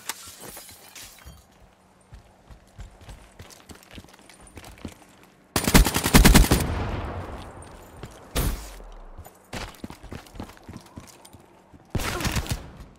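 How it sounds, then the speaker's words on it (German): Gunfire in Call of Duty: Black Ops 3 multiplayer: loud sharp bursts and single shots, with a sustained heavy volley around the middle, a quieter scattered crackle of shots between, and another burst at the end. "Schießt denn da auf mich?"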